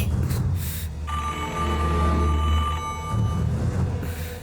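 A telephone rings with a steady electronic tone over a low background hum, fairly close and continuous for a few seconds.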